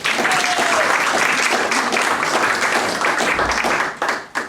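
An audience applauding the Reverend Alan Powers as he is introduced, a loud, dense burst of clapping that carries steadily before tapering off, with a faint murmur of voices underneath.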